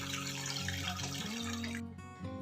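Water poured into jaggery and stirred to make panagam, a steady close splashing and pouring that continues throughout the short stretch, then briefly thins before resuming.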